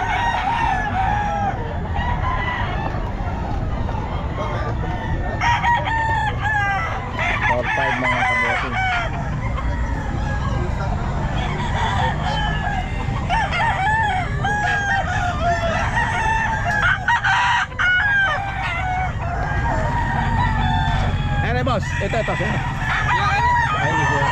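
Gamefowl roosters crow repeatedly at a busy Bocaue pet market, loud and overlapping, with clucking and the chatter of nearby people running underneath throughout.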